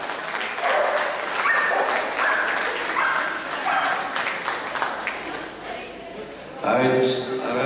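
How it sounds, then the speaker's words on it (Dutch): An audience at an indoor dog show claps in a warm round of applause, with a dog barking and a voice over the speakers speaking during it; the clapping fades, then a short burst of noise returns near the end. "Een applaus, mensen."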